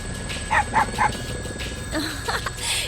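Koromaru the dog from Persona 4 Arena Ultimax gives three quick, close, clear barks, then after a short pause some softer yips and whines follow over a light background hum.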